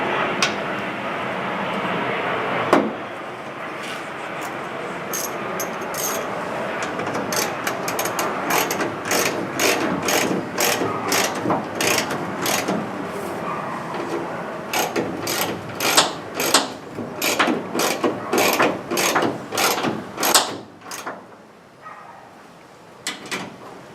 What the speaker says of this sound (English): Start these two by hand before tightening up with the ratchet.